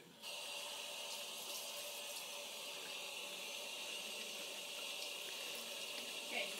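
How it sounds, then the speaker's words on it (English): Water running from a tap over a sink to fill a container, a steady rushing hiss that starts abruptly and continues evenly at close range. "And over the sink, fill it with water."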